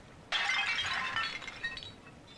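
A porcelain tea service in the style of Louis XV shatters in BioShock 2: a sudden loud crash of breaking ceramic, then scattered tinkling fragments settling and fading.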